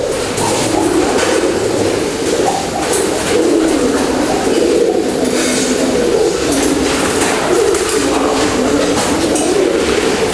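Racing pigeons coo continuously, with layered, throaty cooing from several birds close by, loud and unbroken throughout, with no talking.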